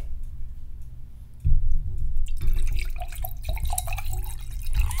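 Wine poured into a glass close to the microphone, a gurgling, splashing liquid stream that starts abruptly and continues with bubbly trickles and small clinks.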